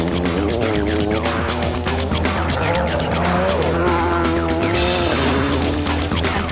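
A Skoda Octavia WRC rally car races past at close range on a gravel stage at the 2003 Acropolis Rally, its engine roaring steadily loud with tire noise and skidding throughout, no voices.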